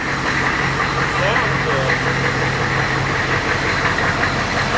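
A military Humvee engine idles steadily nearby, a continuous low rumble with faint knocking, while people talk over it.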